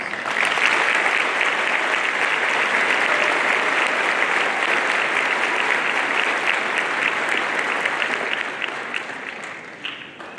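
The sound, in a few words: audience applause at a graduation ceremony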